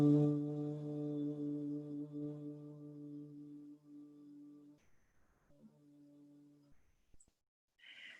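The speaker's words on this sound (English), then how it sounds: "the bumblebee breath is simply humming." A person hums steadily on the out-breath during bumblebee breathing in a calm yoga practice, a low voiced drone with clear harmonics lasting several seconds, then a second shorter hum before fading into quiet breath.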